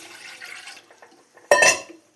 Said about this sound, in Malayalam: ഒന്നര കപ്പ് വെള്ളം ഒഴിക്കുന്നു